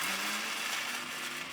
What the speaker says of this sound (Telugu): ఇప్పుడు మనం మసాలా మిక్సీ పెట్టేద్దాం